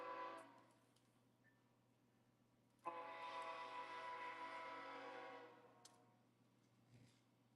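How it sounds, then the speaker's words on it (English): A train horn sounds faintly in the background during a jewelry showing, a sustained tonal blast of about three seconds with a few ticking clicks before and after, and no talk. "Y'all hear my train in the background? It's giving a toot toot"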